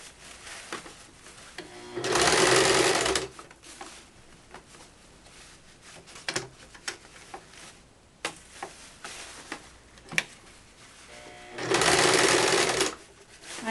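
A sewing machine stitches a skirt's elastic waistband, running in two loud sustained bursts separated by quieter handling noises and small clicks.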